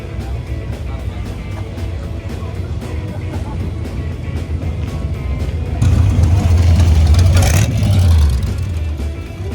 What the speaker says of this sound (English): Twin turbo LS